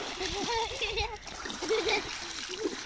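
Children bathing in a large pond at a countryside dacha splash the water in close, choppy bursts, with young voices chattering over the splashing.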